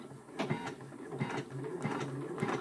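Janome embroidery machine stitching over an appliqué quilt block in the hoop, a steady close mechanical whirring with a rhythmic clatter of the needle, alone.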